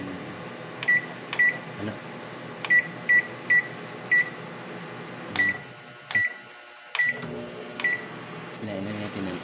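A microwave oven's keypad gives a series of short, evenly pitched beeps as the timer is set, close by over a steady appliance hum, with a brief spoken word in between.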